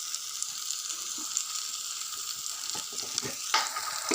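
Oil sizzling and frying in a pan on a home stove as turmeric curry is made, a steady bright hiss with small crackles and pops throughout, one louder spatter near the end.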